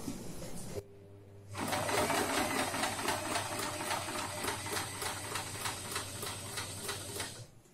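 A sewing machine stitches a slanting line across fabric with the presser foot lowered: a close, steady, rapid whirring with regular mechanical ticking that starts after a brief pause and runs continuously.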